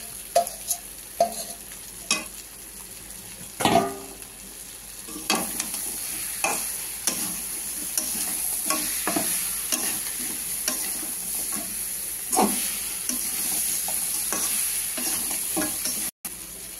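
Fried crab pieces being stirred and sautéed in curry masala for a Bengali crab curry, with a steady sizzle under repeated sharp scrapes and clatters of the spatula against the pan, close and fairly loud.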